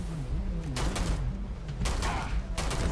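A dual shot fire pistol in the game Starfield fires a few loud bursts of gunfire over a low rumbling background hum, each shot sharp and spaced about a second apart.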